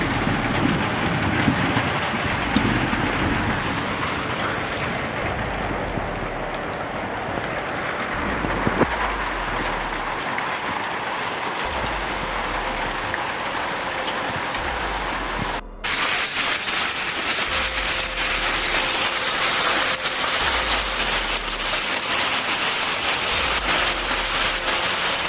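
Steady, dense roar of a hailstorm in Cianjur pelting house roof tiles hard enough to break them, a continuous rushing clatter that fills the whole stretch without letting up.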